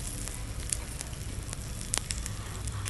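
Cumin, mustard seeds, dried red chillies and curry leaves sizzle and crackle in a spoonful of hot oil for a tamarind rasam tempering, a close, steady hiss broken by scattered sharp pops.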